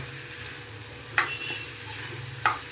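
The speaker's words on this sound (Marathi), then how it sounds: "आपण याला मस्त परतून घेऊया मिक्स करून घेऊया एक जीव करून घेऊया सगळ्या भाज्या" Vegetables for tawa pulao being stirred and sautéed in a pan, with a steady low sizzle and occasional sharp clinks of a spoon against the pan, close by and with no talking.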